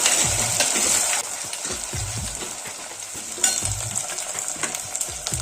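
Eggplant frying in a pan for a pepper kuzhambu, with a continuous sizzle and repeated rhythmic stirring scrapes, close and moderately loud.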